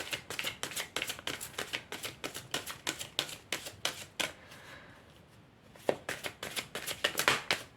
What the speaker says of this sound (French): Je vais tirer une dernière carte.